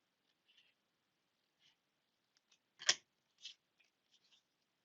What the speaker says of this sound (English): I can take this and snip it off